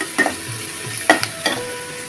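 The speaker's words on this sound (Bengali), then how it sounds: "পেঁয়াজ কুচি দিয়ে দিলাম, রসুন কুচি দিয়ে দিলাম, একটু লাল লাল করে ভেজে নিতে হবে" Chopped onion and garlic fry in a pan, with three short scraping stirs of a utensil over a faint sizzle, close by and alone.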